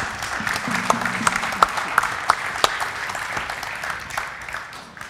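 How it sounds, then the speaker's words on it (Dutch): An audience applauds vocational school students on a Dutch late-night talk show about technology and education, with sustained clapping, a few sharper claps standing out near the front, and a brief voice underneath. "applaus voor de VMBO-leerlingen"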